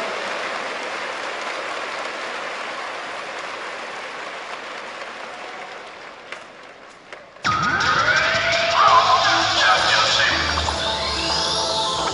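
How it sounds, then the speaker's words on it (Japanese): Applause for the volunteers and mop crew at a professional basketball playoff game in an arena, a steady loud wash of clapping that starts abruptly partway through after a quieter stretch of crowd murmur and announcer talk. "大きな拍手をお送りください"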